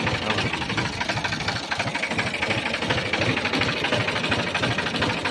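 A New Holland 4710 four-wheel-drive tractor engine runs steadily up close, a loud, dense diesel rumble with a rapid mechanical knock that stays constant throughout, with no voices.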